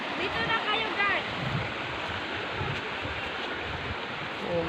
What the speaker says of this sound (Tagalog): Oh, may sapa dito guys oh.